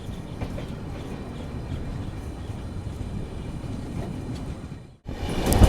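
An Indian Railways train, the 12432 Trivandrum Rajdhani Express on the Konkan Railway, rumbles past close by in a heavy, continuous roar. A short dip follows, then a louder surge of rolling noise.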